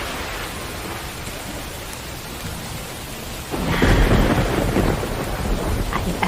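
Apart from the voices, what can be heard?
thunderstorm with rain, wind and thunder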